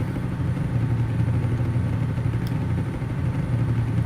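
Detroit diesel semi truck in American Truck Simulator running wide open while hauling livestock, a steady, loud low exhaust drone that holds without a break.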